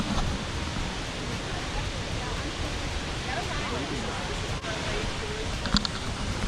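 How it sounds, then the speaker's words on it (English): A waterfall near Hilo, Hawaii fills the scene with a steady, loud broadband roar that never lets up, with faint voices murmuring beneath it. "Waterfall."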